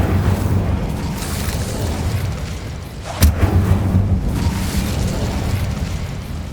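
A fire spell cast in the video game Hogwarts Legacy, heard as a sudden whooshing burst in the middle of low game ambience, followed by a roaring rumble that lingers.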